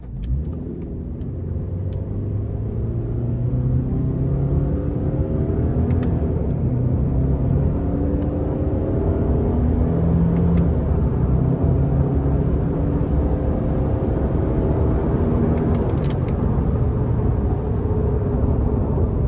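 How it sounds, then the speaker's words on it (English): A 2019 Subaru Crosstrek Limited with 152 horsepower is driven using its paddle shifters, producing a steady, loud engine drone and road rumble with rising and falling engine tones through shifts, heard from inside the cabin without speech. "It's enjoyable to drive a vehicle like this that has 152 horsepower, 145 pound-feet of torque with the paddle shifters."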